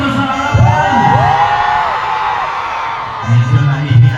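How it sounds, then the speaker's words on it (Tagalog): A concert crowd fills an arena with loud, sustained cheering and whoops, the roar swelling in bursts of shouting near the start and again toward the end. "Lakasan niyo naman po ang inyong hiyawan."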